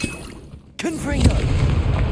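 Confringo explosive spell in Hogwarts Legacy, a brief hush and then a sudden booming blast that keeps rumbling through the rest of the moment, with a warbling voice-like sound riding over the impact.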